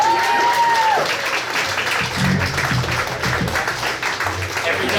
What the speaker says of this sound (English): Can we get a round of applause for Neil on his mandolin?